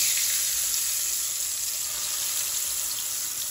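Raw banana koftas deep fry in hot oil, giving a dense, steady bubbling sizzle that stays close and even throughout, with no voices.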